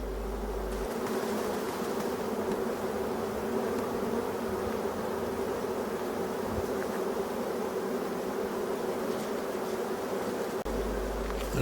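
A honeybee swarm hangs on a branch, with many worker bees buzzing in a dense, continuous drone. The hum stays close and steady throughout, and no one speaks.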